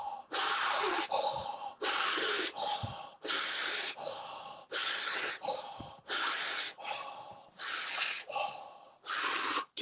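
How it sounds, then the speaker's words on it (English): Deep, forceful breaths during a conscious connected breathwork session, strong inhales and exhales alternating in a steady rhythm about once a second, close and loud with brief pauses between, no talking. "Really get that air in,"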